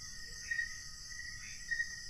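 Crickets chirp steadily in a quiet night setting in the Philippines, a constant high trill with a couple of brief louder pulses, no voices.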